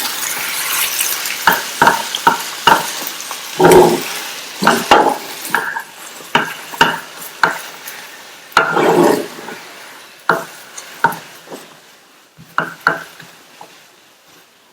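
Mashed boiled potatoes being stirred and folded into a dosa filling in a pan, a repeated series of soft scraping, thudding strokes of a spatula against the pan with faint sizzling underneath, no talk.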